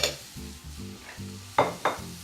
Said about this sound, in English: I'm going to just mix them together in this bowl